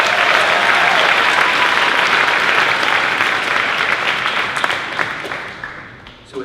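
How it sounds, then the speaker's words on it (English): A school live-stream crowd gives a round of applause, dense and loud clapping that holds steady for several seconds, then thins out and fades toward the end. "So one more round of applause."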